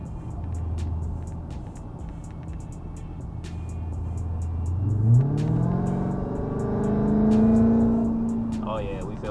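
A 2020 Dodge Charger Hellcat engine rises in a steady, deepening rev as the car accelerates on a rainy Washington road, the tone climbing and swelling under occasional speech inside the cabin.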